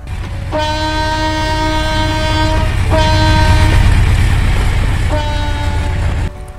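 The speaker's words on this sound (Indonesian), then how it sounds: "Pada saat lokomotif CC20145 ini dipacu kencang" A CC 201 diesel locomotive running fast in Trainz Simulator: a loud, continuous engine and rail rumble throughout, with three long blasts of a multi-tone horn separated by short gaps.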